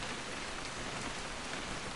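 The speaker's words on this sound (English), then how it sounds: "It's gonna rain the whole weekend" Steady rainfall in the video game What Remains of Edith Finch patters on surfaces in a dense, even hiss, with no voices.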